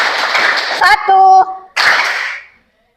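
A class of children claps together in a quick rhythmic burst, dense and close, then a teacher's voice speaks briefly before the group claps again in another loud burst.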